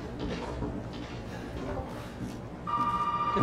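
A telephone ringing in a horror video game, a steady electronic tone entering partway through and continuing to the end over a murmur of game noise.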